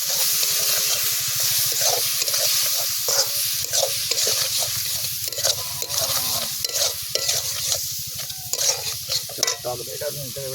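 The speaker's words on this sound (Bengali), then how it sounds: "অল্প পরিমাণে জল দিয়ে দেবো বেশি জল দিলে হবে না" Curry sizzling loudly in a hot pan as a little water is added, with a spoon stirring and scraping in a steady, rapid rhythm throughout, close and continuous.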